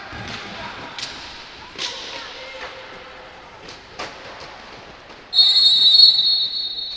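A referee's whistle at a women's Serie A roller hockey match between Newco Roller Matera and Hockey Valdagno: scattered clacks and thuds of play, then one loud, sustained shrill blast near the end.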